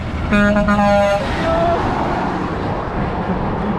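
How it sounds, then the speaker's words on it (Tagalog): A vehicle horn gives one loud, blaring honk of about a second over the hum of road traffic. "Busina!"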